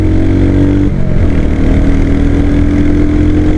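A Royal Enfield Hunter 350 motorcycle engine running while riding, a loud, steady low thumping drone close up, with a slight pitch change partway as the rider shifts or eases the throttle.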